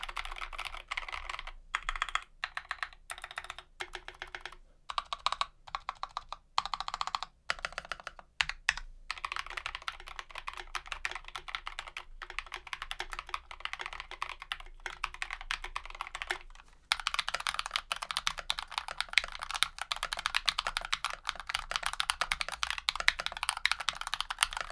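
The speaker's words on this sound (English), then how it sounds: "These are Acco green switches lubed, Gateron yellow switches lubes, Band-Aid modded" Lubed Akko green and Gateron yellow switches clatter on two band-aid-modded TKL mechanical keyboards with fish foam inside, a near, steady run of crisp keystrokes with short pauses before a denser burst of fast typing.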